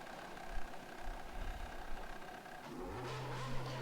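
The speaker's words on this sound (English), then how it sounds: "So we'll pop it into neutral and we'll start the engine" An F1 car engine in the rFactor 2 racing game starts up after a few seconds of low rumble, then settles into a steady, even idle drone at moderate level, with no talking.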